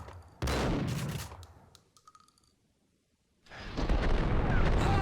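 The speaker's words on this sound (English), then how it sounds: "Oh, I forgot how slow the shotgun is." Shotgun blasts from the Max Payne video game, two dense, loud bursts of game gunfire separated by a quieter gap of fading echoes and small effects, with no talking.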